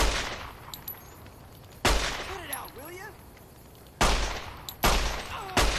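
Several sharp 9mm pistol shots fired in the video game Fallout New Vegas, coming as loud, isolated bangs spread across a few seconds, with brief warbling tones between them.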